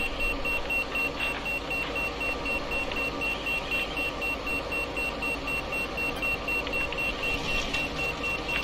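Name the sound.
fire alarm beeping in a video game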